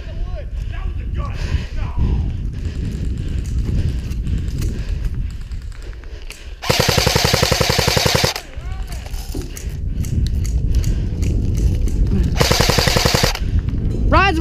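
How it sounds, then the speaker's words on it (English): Airsoft guns fire close by in rapid bursts of sharp, fast clicking pops, two long strings standing out among shorter shots, while players talk and call out around them outdoors. "That was a gun."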